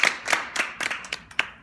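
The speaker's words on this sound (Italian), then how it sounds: "Un applauso a Davide, ragazzi." Sparse, brief clapping from a few people at a dinner, around seven separate claps, close and moderately loud.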